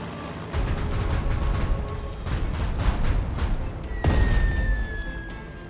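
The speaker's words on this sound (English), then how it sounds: "You'll notice the Japanese destroyer is now on fire from our bombs." Bombs from dive bombers strike a Japanese destroyer in Strategic Mind: The Pacific, producing a rumbling string of heavy blasts and a sharp louder impact near the end.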